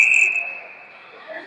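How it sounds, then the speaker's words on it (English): A referee's whistle at an ice hockey game gives one sharp, shrill blast at the start, then fades under the hollow murmur of the arena. "There's a whistle."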